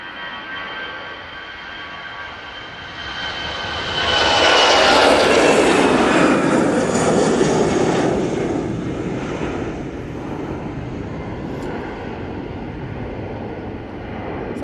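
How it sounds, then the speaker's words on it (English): An Aer Lingus Airbus A320 passes on its landing approach at Manchester Airport, jet roar swelling and sweeping downward in pitch as it goes by, then fading into a long distant rumble, with no speech. "got the Aer Lingus A320 just about to touch down"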